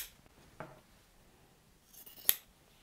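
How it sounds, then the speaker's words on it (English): Quiet scissors snipping the corners of sewn blouse fabric, two short distinct cuts with a crisp final snip, in a still room. "Next, snip the corners."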